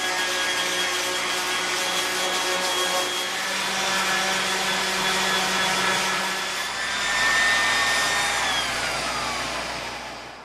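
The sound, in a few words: random orbital palm sander with 100 grit sandpaper on wood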